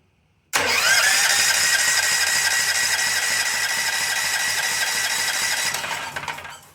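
A small generator engine with a spark problem is cranked after choking, giving a sudden, loud, steady mechanical whirring and rattling cranking that runs for several seconds without firing, then fades out.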